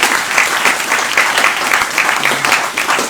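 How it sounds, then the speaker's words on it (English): A meetup audience claps together in a continuous, close and loud burst of applause lasting about three seconds, with no talking over it. "maybe one last round of applause for Nathan."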